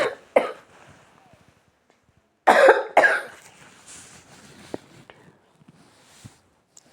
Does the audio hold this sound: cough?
yes